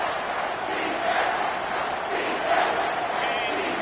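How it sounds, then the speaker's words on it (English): A stadium crowd roars through a third-down play at an American football game, EMG versus UK. The sound is a dense, sustained wall of noise that swells and surges loudly, with no other sound on top. "Third down, and this crowd is tearing the lid off this place"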